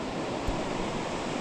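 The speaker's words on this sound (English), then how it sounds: "Cumbrian salmon river in its full glory." A small Cumbrian salmon river runs in full flood, a steady, dense rushing roar of fast water, close and unbroken for its short length.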